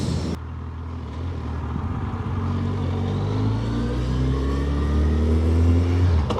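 Suzuki Hayabusa motorcycle accelerating hard on a highway at night, its engine note climbing steadily under wind roar, loud and continuous throughout with no talking.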